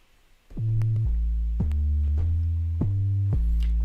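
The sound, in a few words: very low sub bass synth, triangle wave pitched down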